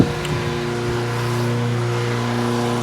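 A Toro lawnmower fitted with an SV150 engine runs steadily at a high idle, with a strong continuous hum and no speech.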